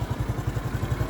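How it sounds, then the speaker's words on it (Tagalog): A Honda Wave Alpha 110 motorcycle engine idling close up with a faulty tensioner, a steady low rhythmic putter with a faint clatter, no voices. "ganyan talaga yung tunog ng motor ko"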